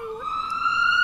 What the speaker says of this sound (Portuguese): Como que era a sirene assim?